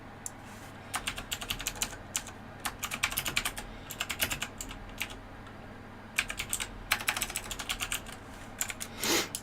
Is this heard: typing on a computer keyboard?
yes